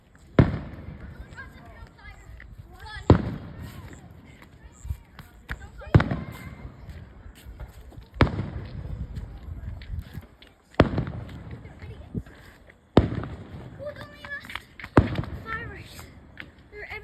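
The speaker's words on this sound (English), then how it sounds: "Fireworks. They're everywhere." Outdoor Fourth of July fireworks burst in a series of about seven sharp, loud booms spaced a few seconds apart, each trailing off into crackle, with a voice speaking between the blasts.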